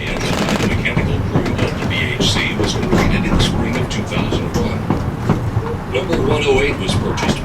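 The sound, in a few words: Baldwin 2-6-2T steam tank engine train running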